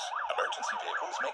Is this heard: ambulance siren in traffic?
yes